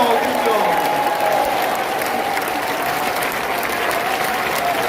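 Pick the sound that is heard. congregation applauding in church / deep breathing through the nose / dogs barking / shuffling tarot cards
congregation applauding in church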